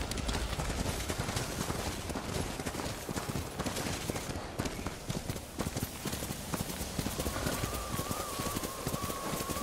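Horse hooves clop steadily in a snowy landscape in Ghost of Tsushima, a continuous rhythmic gallop over wind-like ambience, with a faint tonal cue near the end.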